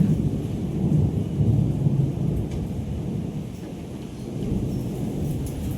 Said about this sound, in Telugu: ఇట్లా ఉరుముతుంది. వర్షాకాలం స్టార్ట్ అయింది ఇక.